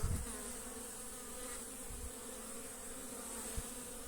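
Bees hum steadily around beehives outdoors in late winter, a faint continuous drone with a few soft low thumps and no voices.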